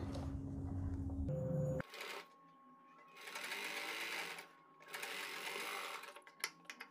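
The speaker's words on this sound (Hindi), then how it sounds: "सिलाई आपको वहाँ चलानी है जहाँ आपकी पाइपिंग है गोल" A sewing machine stitches piping around a garment neck design, a brief close mechanical whir at the start followed by quieter fabric handling and rustling.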